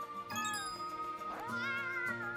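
Mother cat meowing in Bowser's Fury, two distinct meows with a soft tinkling chime at the start, clear and close over quiet game music.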